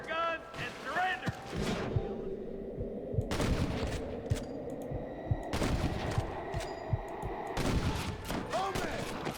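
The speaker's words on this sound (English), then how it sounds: "Good shooting, Marston." Repeated gunshots crack out in the video game Red Dead Redemption, sharp reports spaced through a busy mix of game sounds, with voices talking over the shooting.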